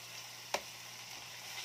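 Chicken sautéing in a pan for chicken pastil gives a steady, bright sizzle with one sharp utensil click early on and no talk.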